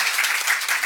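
An audience at a conference session claps for the speakers, a brief burst of close, dense applause.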